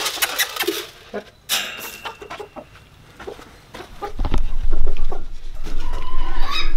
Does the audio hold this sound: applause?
no